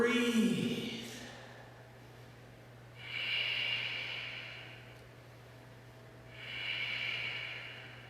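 Slow yoga breathing comes in long, airy breaths, two clear exhales a few seconds apart over a low, steady hum, with a short vocal sound at the start.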